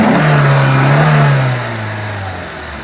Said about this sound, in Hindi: तो ये थी पेट्रोल वाले इंजन की आवाज़